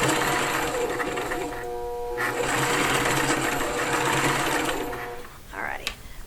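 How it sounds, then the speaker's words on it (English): A sewing machine stitching fabric pieces runs in loud, rapid bursts with a brief pause between runs, then stops with a small click near the end. "I will have to back stitch to get to the little stitching"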